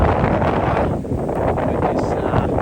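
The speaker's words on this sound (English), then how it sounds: "With this wind blowing" A southeast wind blows hard outdoors, a steady broadband rush buffeting the microphone for the whole stretch, with only a brief dip in strength partway through and no voices.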